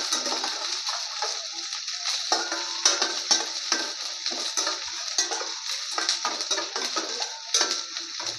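Onions sizzle steadily in a hot pan with cilantro added, a continuous bright frying hiss punctuated by soft stirring scrapes.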